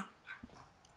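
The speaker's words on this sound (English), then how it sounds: "Whose dog is that?" A dog gives a single short, faint yip in the background, brief and isolated against a quiet room.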